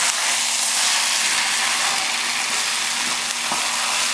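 Pad Thai ingredients with palm sugar being mixed in a hot pan: a steady, loud, dense sizzle and fry throughout, with a faint scrape of stirring underneath and no speech.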